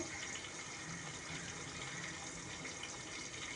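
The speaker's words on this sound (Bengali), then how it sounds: "এই যে ভাত ফুটতে শুরু করেছে" Rice boils in a pot on the stove, giving a constant, even rushing bubble that holds at a low, soft level without pauses.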